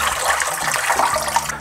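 Water pours and gurgles as a pot of cooked cabbage is drained, a close, continuous rushing flow heard alone.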